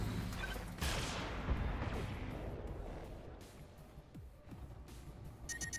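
Mech weapons opening fire in the BattleTech video game: a loud burst of heavy gunfire and blasts up front that rumbles and fades over several seconds, with a few sharp impacts later.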